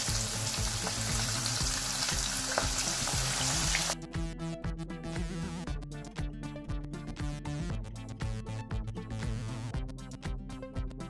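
Floured fish pieces frying in hot oil, a dense continuous sizzle and crackle that is loud at first, then settles into a steady bubbling hiss with scattered pops.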